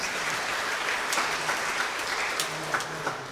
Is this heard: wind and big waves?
no